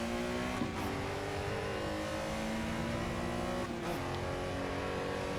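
Corvette and Porsche race cars lap the Snetterton circuit in a classic car race, engines droning steadily at a distance with rising and falling pitch as they shift gears, heard continuously without any voices.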